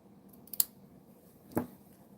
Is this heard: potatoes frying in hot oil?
no